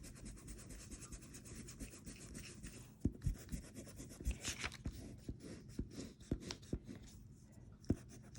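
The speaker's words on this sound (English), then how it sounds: "you can then rub out the pencil lines behind" Soft, steady rubbing and scratching of an eraser on paper, with a few sharper taps and scuffs, close and quiet.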